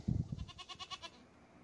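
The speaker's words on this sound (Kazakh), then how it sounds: "Келесі альпийский ешкі" An Alpine goat bleats in a short series of about five quavering, nasal calls that follow a brief low rumble, close and moderately loud, with no talking.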